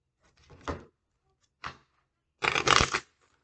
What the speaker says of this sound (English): I'm going to pull the card.